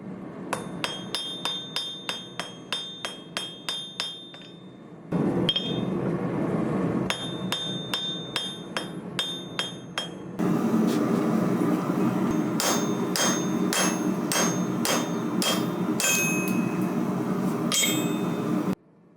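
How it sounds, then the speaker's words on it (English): Steady metallic hammer blows on hot steel against an anvil ring out in a fast, even rhythm, each strike bright and clanging, continuing in several runs with brief pauses. "I'm hammering the edge of the steel against the edge of the anvil to create a lip"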